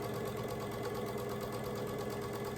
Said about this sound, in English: So I'm going to sew this 1/4 inch seam down this whole side